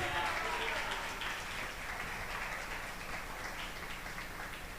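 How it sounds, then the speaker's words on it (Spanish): A church congregation applauds the Lord during a sermon, a faint, distant patter of many hands clapping that runs evenly for several seconds, with some voices faintly mixed in. "Denle un fuerte aplauso al Señor."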